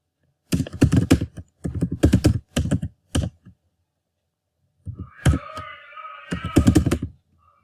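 Code being typed on a computer keyboard comes as close, crisp bursts of rapid keystrokes separated by short pauses, with no voices.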